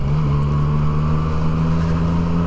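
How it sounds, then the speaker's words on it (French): A motorcycle engine runs loud and close in a steady drone with a strong low hum throughout, no talk over it. "nous c'est comme ça qu'on se parle en motard, on se parle avec le moteur"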